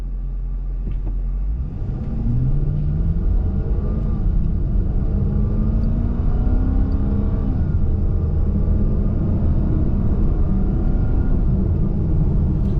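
A 2023 Chrysler 300 S with an 8-speed automatic accelerates hard, its engine rumbling loud and steady from inside the car, the pitch climbing and then dropping smoothly at each gear change over a continuous road drone.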